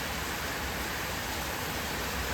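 Heavy rain pours steadily during a thunderstorm with hail, water spilling from a tied-up covering overhead; a dense, loud, unbroken hiss fills the whole stretch with no voices.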